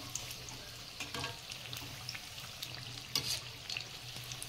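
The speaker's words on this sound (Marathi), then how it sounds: "असं पटकन तेलामध्ये सोडून घ्यायचं" Vada dropped into hot oil in a small wok on medium heat crackle and fry with a steady close sizzle, broken by brief pops and bubbling bursts.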